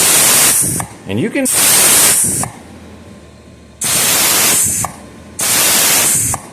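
Loud bursts of compressed air hiss through a rubber-tipped nozzle into a port on a 1957 Ford Cruise-O-Matic transmission, three long blasts separated by gaps, with someone speaking briefly between them.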